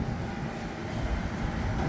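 A New York City subway W train at Astoria–Ditmars Boulevard, a brief burst of low rumbling wheel and car noise at close range, steady and loud without talk.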